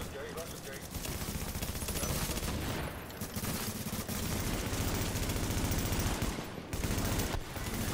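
Sustained, dense gunfire from Tom Clancy's The Division, rapid overlapping bursts and volleys that stay loud and close for several seconds with only brief breaks.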